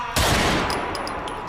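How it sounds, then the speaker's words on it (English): Firecrackers or fireworks go off in a sharp close blast followed by a long rumbling decay, with a few faint crackling pops scattered through the tail. "Firecrackers, fireworks, that's all that is."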